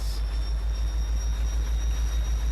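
A locomotive in Farming Simulator 25 runs on player-laid track, heard as a loud, steady low rumble with a regular pulsing throb and a faint high whine held across the whole clip.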